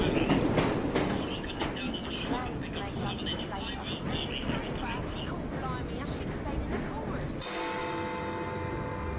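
A runaway train in the video game Assassin's Creed Syndicate rumbles along with rhythmic clattering wheels, loud and continuous, while a voice talks over it, the rolling noise thinning out near the end.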